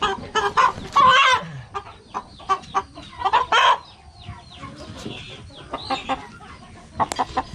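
Several chickens cluck and squawk in short, irregular bursts, close by, with a brief louder cackle near the start and no talking.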